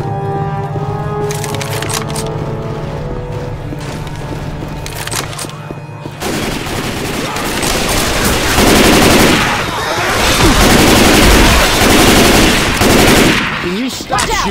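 Heavy automatic gunfire from a zombie shooter, Left 4 Dead 2, loud and dense bursts after a quieter opening with background music, growing more intense in the second half, with faint voices beneath.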